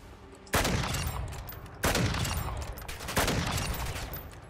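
Gunfire in the Modern Warfare 3 zombies mode: three loud, sharp shots spaced about a second and a half apart, each one followed by a trailing reverberant decay.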